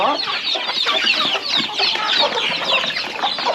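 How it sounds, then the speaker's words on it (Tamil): Many farm chickens cluck and squawk continuously at close range during feeding, with dense overlapping calls filling the whole stretch and no talk over them. "இந்த பெரிய கோழிக்கு மட்டும்தான் தீவனம் வைக்கணும்"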